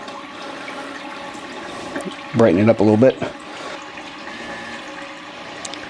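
A toilet fitted with a Toibuble 2.0 cleaning system flushes, sending blue water into the bowl in a short, loud gushing burst. A person speaks briefly nearby over a faint background hum.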